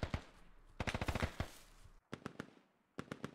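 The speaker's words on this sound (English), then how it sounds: "I'm hearing a lot of AK fire." Bursts of AK rifle fire in the shooter game Squad, rapid automatic volleys with sharp cracks, a long burst then shorter strings of shots separated by brief silences, loud and close.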